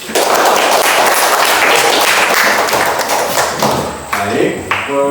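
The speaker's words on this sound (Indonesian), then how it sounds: "Baik, tepuk tangan dulu" A classroom of children claps together during a mathematics lesson, a loud, dense burst of rapid hand claps that runs for several seconds before thinning out, with faint voices and tones near the end.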